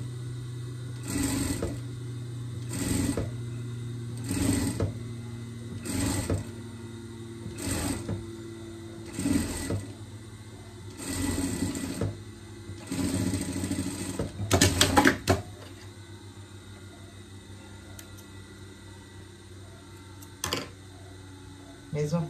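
A sewing machine stitches a folded seam finish on a pet costume in short, regular whirring bursts with brief pauses between, close by, ending in a dense rattling run and then quiet, with a voice speaking in between.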